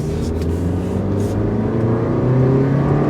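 A 2015 Toyota Yaris, a small French-built compact, accelerates at full throttle, its engine droning steadily and rising in pitch, loud and close throughout with no talking.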